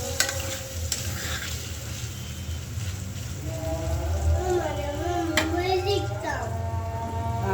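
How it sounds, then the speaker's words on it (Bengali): Lentil dumplings (bori) fry in oil in a pan, a steady close sizzle with light stirring scrapes, while a voice talks over it and other kitchen noise comes through. "ডালের বড়িগুলো ভাজা নিচ্ছি"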